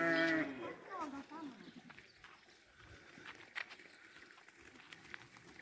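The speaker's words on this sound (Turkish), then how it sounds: "işte koyun" A short sheep bleat at the start, then quiet rustling and scattered faint knocks of an outdoor farm setting.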